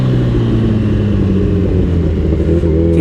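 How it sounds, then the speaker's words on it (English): A Kawasaki Ninja ZX14R motorcycle with a Brock's Performance full system exhaust rumbles loudly and steadily up close, its deep exhaust note rising slightly as the throttle is worked. "We're running a Brock's Performance full system exhaust on this bike."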